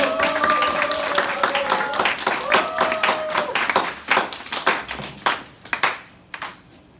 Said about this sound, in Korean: 우리 이중구 목사님 앞으로 나오실 때 우리 박수로 환영하도록 하겠습니다